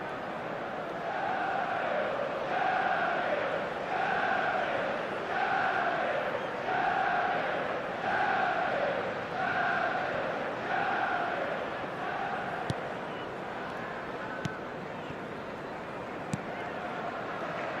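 Football stadium crowd at a Manchester City vs Manchester United Premier League match, a loud sustained roar with rhythmic rising and falling chant swells repeating every second or so, fading into steadier crowd noise near the end.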